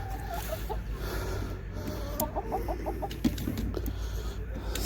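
Hens in a backyard coop cluck steadily, with short rising calls and a few sharper squawks over a constant low farmyard hum. The flock sounds moderately close, and no one speaks.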